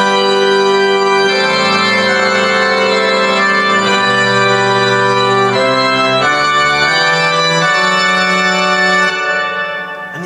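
A big cathedral organ voice from a Yamaha NU1X hybrid piano sustains rich, loud chords that shift slowly, with a long reverberant tail fading at the end.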